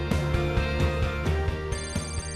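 An office telephone rings out on a call placed to a colleague through an online work platform: a bright, repeating electronic ringtone pattern, loud and steady with no talk.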